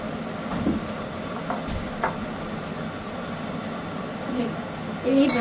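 Batter fries gently in a pan over low heat, a soft, steady sizzle running under a person talking close by, with a brief clink near the end.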